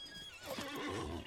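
A horse in the online game Lord of the Rings Online gives one short, close whinny, a quavering rising-and-falling neigh that stands alone.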